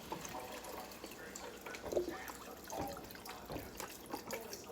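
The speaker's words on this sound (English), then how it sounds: "we're going to pour some chicken broth off in there" Chicken broth poured into a soup pot while cooking Italian tortellini and spinach soup, a faint steady liquid trickle and splash running throughout with no talking.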